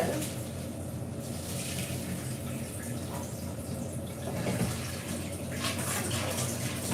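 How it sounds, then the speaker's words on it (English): Water runs from a kitchen tap while a pot is rinsed, a steady close splashing rush lasting the whole stretch with faint clatter and no talking. "give the pot a rinse"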